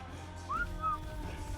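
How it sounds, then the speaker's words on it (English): A whistle used to give an attack command in the ARK Fjordur video game, two short rising whistle notes in quick succession over a steady low game hum. "Can I whistle attack from here?"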